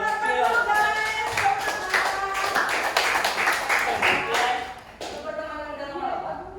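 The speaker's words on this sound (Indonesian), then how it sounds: "tepuk tangan buat teman-teman, guys" A classroom of students clapping for their classmates, a quick flurry of hand claps that blends with a teacher's voice speaking over it before the clapping tapers off.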